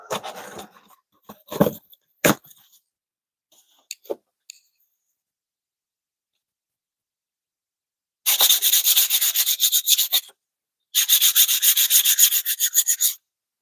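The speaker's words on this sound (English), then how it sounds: "I am just sanding down an old spoon and we're going to re-oil it" A few scattered taps and handling clicks, then two bursts of steady, rapid sandpaper rubbing on an old wooden spoon, each lasting about two seconds.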